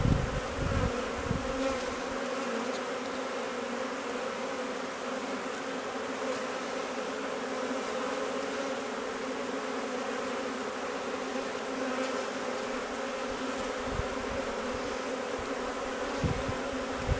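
Honeybees buzz around a hive in spring, a dense continuous hum from many insects close by, with an occasional louder individual bee passing near.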